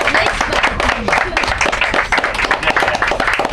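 Passengers aboard a train applaud a performance, with dense, rapid clapping from a small crowd, loud and close, continuing steadily throughout.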